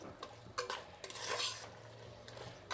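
A spoon stirs mushroom masala for a Karnataka-style donne biryani in a pan, giving soft scraping strokes and light sizzling close by, with no speech.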